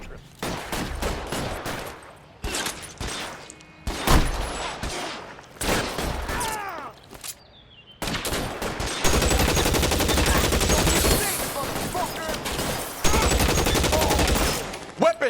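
L.A. Noire shootout, with rapid gunshots and a long stretch of dense, continuous gunfire, interrupted by short breaks and in-game voices.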